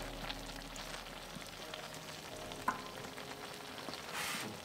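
Four eggs crackle and sizzle steadily in a Lodge 10 1/4 inch skillet, a soft continuous frying hiss with small pops and one sharper clink partway through.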